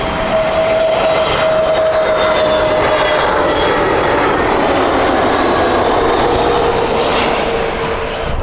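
A Scandinavian Airlines SAS Connect jet from Stockholm roars loudly and steadily at Heathrow Airport, its engines a close sustained rumble with a thin whining tone that slowly drops in pitch, no voices.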